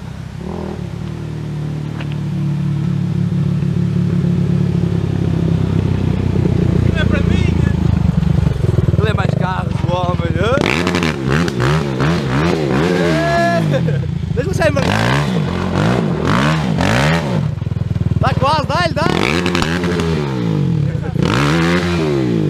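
LTR 450 quad bike engine revving hard under throttle, a loud buzzing roar that climbs and drops in repeated surges, with people talking and shouting over it.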